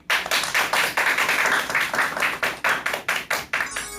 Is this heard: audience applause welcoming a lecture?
yes